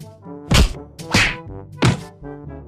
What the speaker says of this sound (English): whenever I practice my punches with a slab of meat